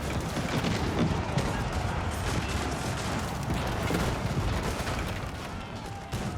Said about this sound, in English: A number of French cannon are here, as well as mangonels.